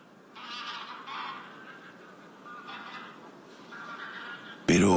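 Geese calling on the water at dusk in winter at Villafáfila wetlands, Spain: a few honking bursts at moderate distance, separated by quieter pauses, ending in a sudden loud burst.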